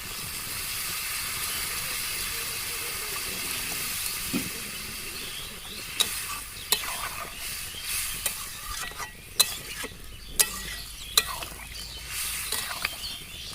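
Egg curry spice masala simmering in a pan gives a soft steamy sizzle that shifts into brief scraping stirs and a few sharp clinks of a utensil against the pan near the end.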